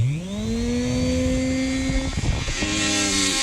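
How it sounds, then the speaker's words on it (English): Dremel rotary tool whining as it spins up and smooths a wear ring on a 2020 SeaDoo GTI 130SE, a loud close tonal drone that rises in pitch, dips briefly, then steadies. "I'm going to go ahead and set my Dremel up, and"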